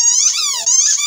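A rubber dog toy shaped like a beer bottle gives two quick, close, high-pitched squeaks, each with a rising and falling pitch.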